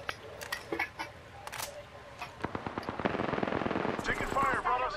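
Rapid gunfire crackles in Apex Legends, with bursts of quick repeated shots building in density and loudness toward the end, while a voice is heard briefly among the firing.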